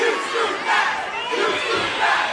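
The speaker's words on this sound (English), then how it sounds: "And the crowd chants, "You screwed Matt," to Earl Hebner." A wrestling crowd at the 2009 Hard Justice event chants in unison at referee Earl Hebner, a loud, sustained roar of many voices rising and falling in rhythmic waves.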